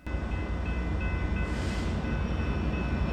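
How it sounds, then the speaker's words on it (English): An Amtrak California EMD F59PHI diesel locomotive rolls past at Jack London Square, a loud, steady rumble with a high ringing tone from a crossing bell, and a brief hiss partway through. "Here's Amtrak California's other main workhorse, the EMD"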